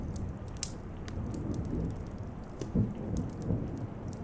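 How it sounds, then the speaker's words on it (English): A thunderstorm with steady heavy rain hissing against the glass of a round window, thunder rumbling low beneath the dense patter, sustained and enveloping, with no voices. "The rain pours, hissing against the glass of the round window"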